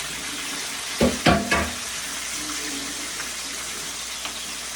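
Sauce for ginisang sayote splashes into a hot frying pan in a few quick pours, followed by a steady, quiet sizzle.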